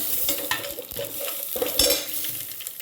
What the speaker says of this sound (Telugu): వంకాయ, అలాగే బెండకాయ వేసుకోవాలి.